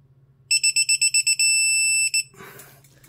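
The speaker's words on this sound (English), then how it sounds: "That's why it beeps fast when you're getting close to the value, so you can be real careful." A Harbor Freight Quinn 1/2-inch digital torque wrench beeps: seven quick, evenly spaced electronic beeps, then one long sustained tone and a final short beep, loud and close against a faint background hum.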